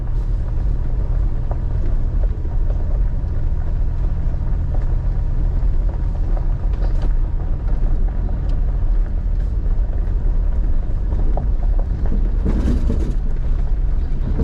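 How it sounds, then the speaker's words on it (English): A truck grinds slowly up a rough, rutted mountain forest road in a state forest logging area, a loud, continuous low engine rumble with jolts and rattles from the bouncing cab, no talk. "You can tell by how much my truck is bouncing, how rough this area is."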